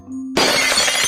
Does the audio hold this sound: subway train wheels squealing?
no